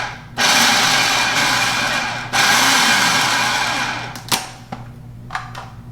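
A food processor pulse-chops mushrooms in two loud whirring bursts close to the listener, followed by a few clattering knocks as the motor stops.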